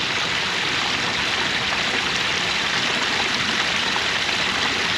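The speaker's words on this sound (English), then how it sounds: "Love the stone with the water flowing out, looking over the waterfall" Water pouring over small stone waterfalls in the Bowman's Hill Wildflower Preserve, a loud, steady, close rushing that fills the whole stretch without a break.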